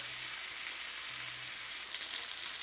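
Beef searing in a very hot pan, cooking toward medium with a brown crispy crust, gives a steady, loud, close sizzle and crackle that runs without a break and has no voices over it.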